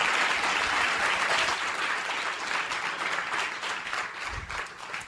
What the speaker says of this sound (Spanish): Un aplauso, por favor, gigante para él.